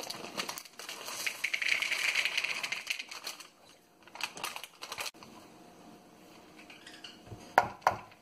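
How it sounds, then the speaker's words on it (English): Chocolate chips and coconut shavings tumble into a mixing bowl for brownie cookie bars, giving a close, dry rattling and crackling scatter in bursts with clinks of a bowl, ending in a couple of sharper taps. "you can then add in the chocolate chips and the coconut"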